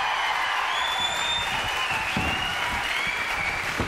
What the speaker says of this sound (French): Merci Charlie, merci Lulu, applaudissements pour eux, mesdames, messieurs.